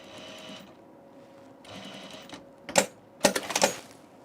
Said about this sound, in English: And then we take these shorter ones and we sew them to the short ends here.